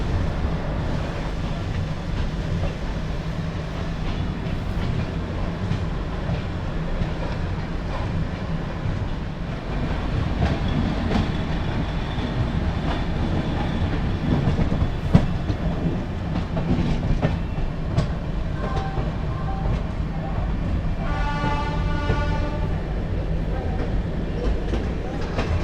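The Vasco Jasidih Express passenger train runs on rails with a continuous loud rumble and steady wheel clatter heard from inside the carriage, with some faint background voices.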